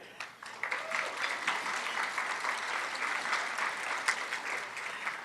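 Sustained applause fills a luncheon hall as a former mayor is recognized, many hands clapping in a thick, steady patter that swells after a brief soft start and stays fairly distant.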